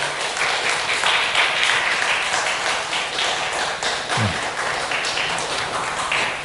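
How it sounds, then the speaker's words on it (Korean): Church congregation applauding to welcome first-time visitors during a Parents' Day Sunday service, a steady, full round of clapping from many people filling the hall, loud and even. "박수로 환영해 주시기 바랍니다"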